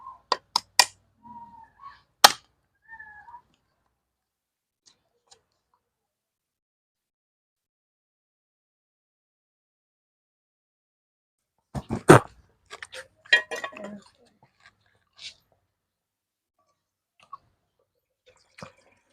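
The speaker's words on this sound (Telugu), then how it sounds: "అవి మిగిలిన ఇప్పుడు కొట్టుకుంటున్నాం" Mature coconuts being cracked open by hand, a few sharp knocks at the start followed by a dense cluster of hard strikes and cracks later on, close and separated by long quiet gaps.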